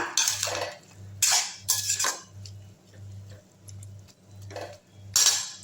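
Meal maker soya chunks stirred in a pot, a spoon scraping and clinking against the metal in several separate bursts over a low background hum.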